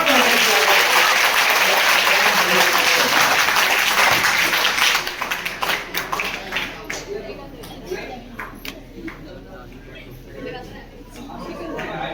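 Applause from the audience at a Hindi poetry gathering (kavi sammelan) at an educational institute, a loud dense burst of clapping that thins into scattered claps and crowd chatter after about five seconds.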